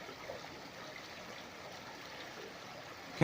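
Stream water runs steadily near a weir in Rouken Glen park, a continuous soft wash of flowing water, fairly close and even throughout.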